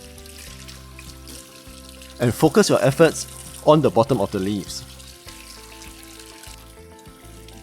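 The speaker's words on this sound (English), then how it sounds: "Clean each leaf under the running water" Cabbage leaves rinsed under a running kitchen tap, with water splashing in two short bursts while a person talks over steady background music.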